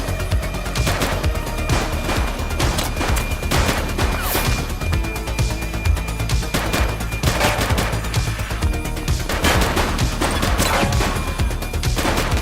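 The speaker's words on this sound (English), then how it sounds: "He's shooting!" Dense, continuous gunfire in the police video game The Precinct, rapid bursts and volleys running throughout with crashing impacts mixed in, loud and close with no pauses.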